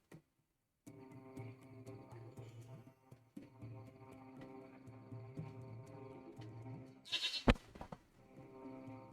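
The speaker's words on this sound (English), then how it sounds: "No me acordaba que estaba la cabra aquí." A goat bleats in the video game Lost Horizon, a wavering cry heard over soft ambient game music, followed by a sharp bright clatter near the end.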